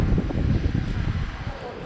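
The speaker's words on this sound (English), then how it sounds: "I knew it'd be windy, but I didn't think I'd be getting wet." Gusty wind at the Blackpool seaside buffets the microphone with a steady low rumble and roar that rises and falls slightly throughout.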